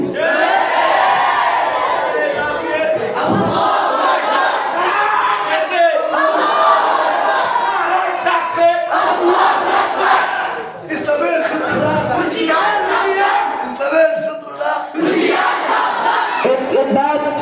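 Crowd at a rally chanting the takbir slogan, loud massed voices shouting in repeated bursts and swells, with a voice leading over them throughout.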